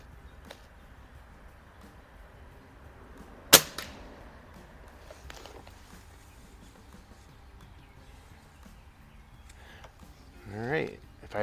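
A Crosman Model 101 air rifle fires one sharp, close crack at a target 25 yards away, followed by a faint distant thud, in an otherwise quiet outdoor setting.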